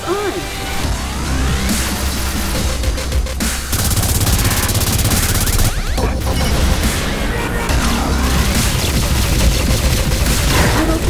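Dense, continuous automatic gunfire and crashing impacts from the video game Saints Row IV, loud and close throughout with barely any pause, while players talk over the shooting.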